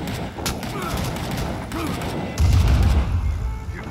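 Rapid gunfire in the Vietnam War shooter Rising Storm 2: Vietnam, a continuous rattle of shots with a heavier burst of thumping fire partway through, blended with battlefield noise and voices.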